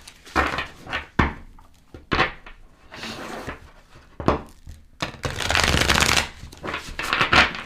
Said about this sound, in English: Just want to make sure that the cards are properly shuffled.